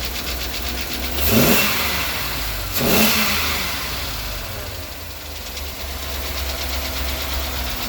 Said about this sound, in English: Got this knocking noise